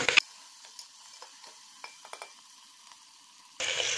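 A few light scrapes and soft sizzles from masala for paneer butter masala being stirred in a pan, quiet and intermittent, then a louder burst of frying noise at the end.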